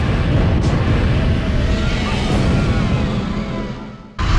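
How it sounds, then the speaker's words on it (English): Dracula's castle crumbling in the Castlevania N64 video game, heard as a loud, continuous roaring rumble like a long explosion that holds steady for about four seconds before cutting off abruptly. "watched from the distance as Dracula's castle crumbles"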